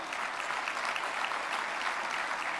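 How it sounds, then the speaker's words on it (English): An audience breaks into steady, dense applause at a moderate distance, continuous clapping without speech for a couple of seconds. "go ahead and applaud"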